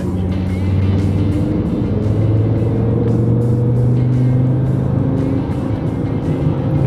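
Volvo 850 car driving with new engine mounts, its engine drone loud and steady with rising and falling tones as it pulls through gear shifts, heard from inside with no talking.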